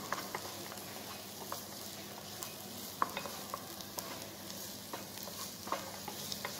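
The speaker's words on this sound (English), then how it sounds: "We just cook the tomato when the tomato is tenderized." Tomatoes cooking in a pan for minestrone soup, a steady soft sizzle with occasional stirring scrapes and light taps from the utensil, close and even throughout.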